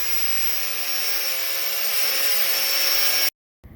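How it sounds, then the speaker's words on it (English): An angle grinder with a cutoff disc cuts slots into steel for a post driver adapter, giving a steady, loud, high-pitched whine that holds for over three seconds and then cuts off abruptly. "then we take our angle grinder with a cutoff disc and we cut the slots down to the hole from each of those ends"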